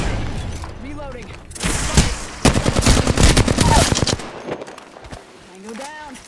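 Automatic gunfire in Apex Legends rips out in fast, loud bursts near the middle, with single shots and impacts around it and a player's voice talking at the start and end.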